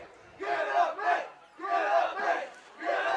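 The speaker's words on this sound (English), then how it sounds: "And you can hear the crowd below us, quite vocal." A vocal crowd at a high school football game between Calexico and Montgomery roars from the stands below in repeated loud surging bursts of cheering and chanting, separated by brief lulls.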